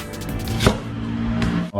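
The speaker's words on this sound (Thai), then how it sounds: "ชิ้นก็ล้างทำความสะอาดแล้วก็หั่นเป็นแว่นอย่างนี้นะ" A knife slices cleaned sea cucumber into rings on a cutting board, giving a few soft chopping taps over a steady low kitchen hum, close and moderately loud.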